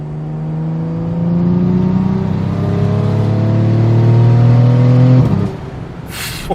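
BMW all-wheel-drive performance car revving hard under full acceleration, a loud, steady engine note climbing in pitch for about five seconds before cutting off sharply.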